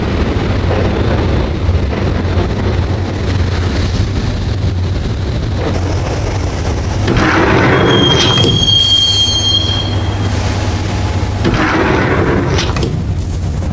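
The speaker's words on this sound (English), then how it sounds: "the train doors had already shut behind me, and I was in for the ride" A subway train ride in Max Payne Remastered: a loud, continuous rumble of rolling wheels and rattling cars, with high metallic wheel squeals rising midway and again near the end.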